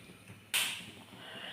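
Sharp hissing burst of steam from a pressure cooker whistle while potato masala curry cooks, starting abruptly then settling into a steady fainter hiss, with no voices.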